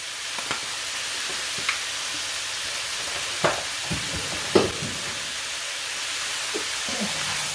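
Shrimp lo mein is tossed in a hot pan under a constant frying hiss, with a few soft knocks and scrapes of the utensil as it is mixed.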